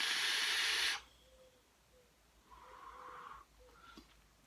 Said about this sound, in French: ça va dépendre si vous sortez la vapeur que par la bouche ou par le nez aussi un petit peu